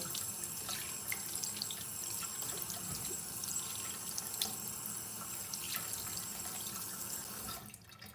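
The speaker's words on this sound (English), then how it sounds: "I'm just gonna wash really quickly. Sorry if you have to hear the sound of water." Tap water runs steadily into a bathroom sink during face washing, a continuous soft splashing with occasional drips that cuts off near the end, with no talk.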